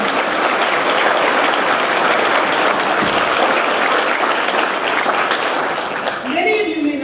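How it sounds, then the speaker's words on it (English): A graduation audience breaks into loud, sustained applause, clapping filling the hall throughout with voices murmuring underneath, a speaker's voice rising faintly near the end. "So give them a round of applause."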